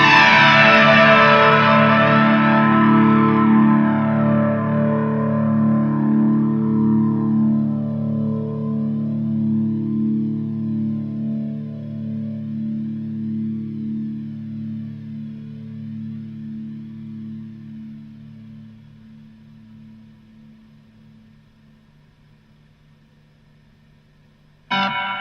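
Electric guitar played through a LongAmp Catalyst Mark II noise gate pedal, a clone of the ISP Decimator: one struck chord rings and slowly decays over about twenty seconds, then a short burst returns at the end.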